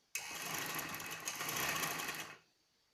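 A sewing machine runs in one steady continuous burst stitching the bottom frill on the inside of a skirt, close and even, then stops abruptly.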